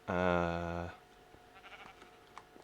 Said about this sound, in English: Oh, it was a sheep.